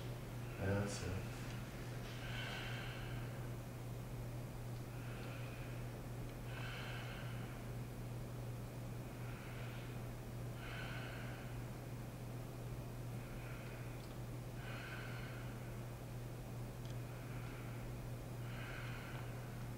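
Slow, rhythmic breathing during a low back stretch: about eight soft, evenly spaced airy breaths repeating every couple of seconds over a steady low electrical hum.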